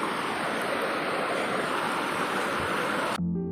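The Pelus River at Leduk village, Kembaran, Banyumas, flows with a steady, loud, broadband rush of water, continuous and close, cutting off abruptly near the end.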